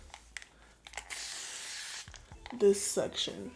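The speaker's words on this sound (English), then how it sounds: "So I'm gonna use my For My Kinks spray bottle" A spray bottle mists water onto type 4 natural hair in one sustained hiss of about a second, followed by a soft voice speaking and faint rubbing.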